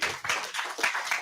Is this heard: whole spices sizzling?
no